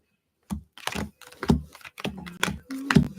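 A tarot card deck is reshuffled by hand, giving a close string of quick, soft card slaps and flicks in an uneven rhythm.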